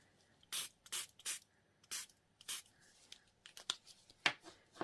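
A spray bottle misting onto a craft project gives about ten short, sharp hissing bursts in an irregular rhythm, close and crisp, with quiet handling sounds between.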